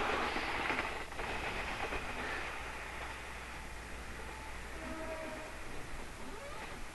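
A Hokuetsu No. 2 train from Niigata passes on the Hokuriku Main Line in 1983, near Isurugi during the JNR era. It gives a steady, loud rolling rumble of wheels on rail that continues throughout.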